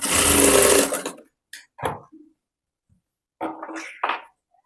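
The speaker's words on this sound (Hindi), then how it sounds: "मैं डबल सिलाई लगा रही हूँ।" Sewing machine running a double stitch on a boat-neck princess-cut blouse: a loud, close burst of whirring stitching that stops abruptly, then brief fabric handling and a short second whir.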